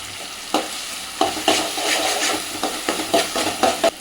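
Ginger garlic paste fries in a pan for chicken curry, with a continuous hiss and sizzle broken by repeated scraping strokes of a stirring spoon against the pan.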